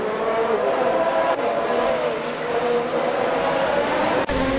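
F1 2022 video game race at Barcelona, Formula 1 cars screaming at high revs in a loud continuous drone, a slight pitch shift as the pack runs on, then an abrupt cut near the end.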